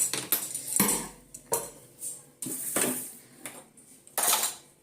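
A pot of cooked cumin rice is lifted off a home kitchen stove, with several sharp, ringing metal clanks and scrapes of the vessel and lid, close up and separated by short pauses.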